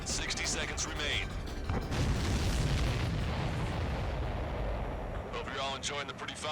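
Heavy booming blasts and rumbling detonations from an aerial battle in the combat flight game Ace Combat 7: Skies Unknown, dense and continuous throughout, with a voice speaking briefly near the start and again at the end.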